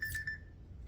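An electronic alarm beeps in a thin, high repeating tone, with a couple of short pulses close by and fairly quiet.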